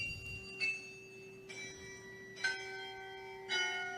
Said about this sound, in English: here's a bigger carillon